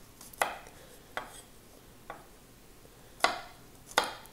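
A knife chops garlic cloves into pieces on a board, five sharp separate cuts at an irregular pace, close and clear against a quiet room.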